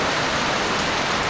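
Rain pouring steadily on a rural road, a dense, even hiss of falling water that stays loud and unbroken with no voices.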